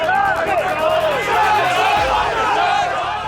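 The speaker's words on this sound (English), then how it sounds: "The verbal stuff you're hearing is when a broker comes into the crowd and presents an order" Stock exchange brokers crowd together on a trading floor and shout orders at one another, producing a dense, loud wall of overlapping voices and hubbub that never lets up.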